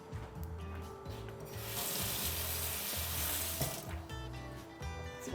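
A spoon rinsed under a running tap while making halal cart-style chicken: a rushing stream of water swells for about two seconds, then fades back to a quiet kitchen hum.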